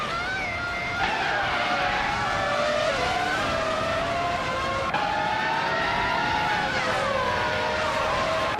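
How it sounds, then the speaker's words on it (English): A McLaren MP4/13 race car roars through a racing video game, its engine note rising and falling continuously with gear shifts across the whole stretch, loud and close, with tyre squeal hinted and no talk. "Dixits is driving a McLaren MP413, starting 7th and currently in 5th place"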